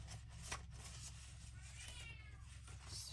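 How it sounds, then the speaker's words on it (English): A house cat meows faintly, with a few drawn-out calls in the background of a quiet indoor crafting session over a low steady hum, and no one speaks. "If anyone can hear that, that's my cat."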